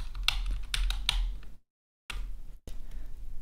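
Computer keyboard arrow keys are pressed in a few quick taps, close and clear, followed by a brief silence and then faint desk handling noise.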